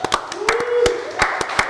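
A few people clap sharply and unevenly at a lively Christmas livestream at SB Motorsport featuring a Nissan Navara-R, the separate claps sounding close and punctuating talk and a high whooping voice.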